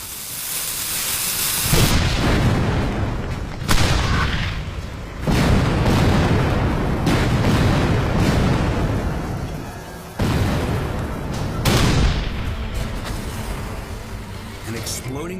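Union cannons of the Civil War firing 12-pound solid iron cannonballs at the Battle of Gettysburg: about six heavy, close booms at uneven intervals, each trailing into a long rolling rumble.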